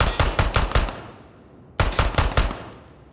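A 1911 pistol fires in the tactical shooter game Ground Branch: a quick string of four or five sharp, loud shots, a short pause, then another string of similar rapid shots, each with a brief ringing tail.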